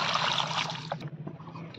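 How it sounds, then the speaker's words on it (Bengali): Raw papaya pieces rinsed in water, a short close rush of pouring and splashing that fades into small trickles and drips. "এই পেঁপে আরেকবার জল দিয়ে আমি পরিষ্কার করে ধুয়ে নিব"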